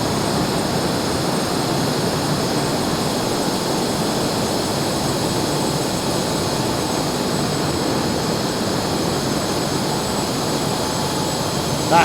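Jet engine in the Microsoft Flight Simulator 2024 video game, a steady, loud, broadband roar with a faint high whine that holds unchanged for about twelve seconds, with no speech.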